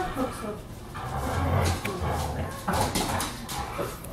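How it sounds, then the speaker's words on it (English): A dog whimpers and yips excitedly with a few barks in a home, mixed under overlapping conversation from several people. "You should have seen the dog swept up off the floor."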